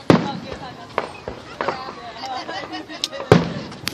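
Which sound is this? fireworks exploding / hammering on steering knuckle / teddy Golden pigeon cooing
fireworks exploding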